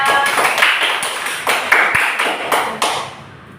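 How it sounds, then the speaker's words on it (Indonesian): Classmates give a short round of applause for a student named Salsa in a physics classroom, a few seconds of scattered, uneven hand claps close by with a faint voice underneath. "beri tepuk tangan kepada Salsa"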